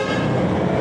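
A car horn honks loudly and steadily on a busy road thick with vehicles, heard up close from a bicycle amid dense traffic.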